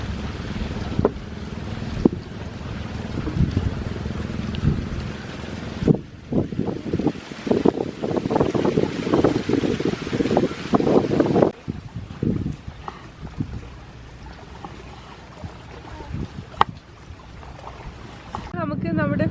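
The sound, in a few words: wind blowing outdoors before rain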